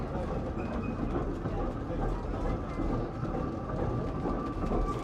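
An old train on the Bredgar and Wormshill Light Railway rumbles along steadily at a distance, a continuous low clatter with faint metallic squeals, heard alone without talk.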